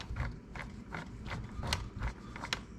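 Tight mechanical gear grinding with repeated ratcheting clicks in uneven bursts, close up and moderately quiet, from the rear differential of an Arrma Typhon 3S RC car turning tightly.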